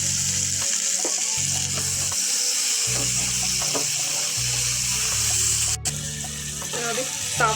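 Tomatoes and salt sizzle loudly in an oily pan for chicken curry, a steady close frying crackle with occasional stirring scrapes throughout.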